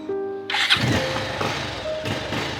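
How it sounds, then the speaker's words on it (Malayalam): A used motorcycle with an electric self-starter and no kick lever cranks briefly, then fires up about half a second in. It settles into a close, steady running engine note. "കിക്കറില്ല സെൽഫ് അടിച്ചാൽ സ്റ്റാർട്ട് ആയി"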